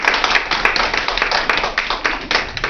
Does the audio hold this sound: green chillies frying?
no